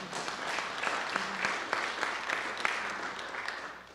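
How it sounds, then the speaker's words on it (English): An audience at a space lecture applauds in a steady, moderately loud patter of many hands that fades toward the end, with a faint voice underneath. "Did I hear some claps on that?"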